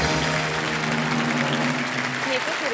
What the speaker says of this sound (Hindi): ताली बज गई